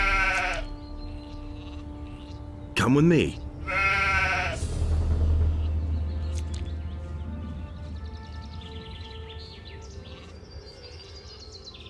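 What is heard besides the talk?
sheep Betsy bleating in the video game Gothic 2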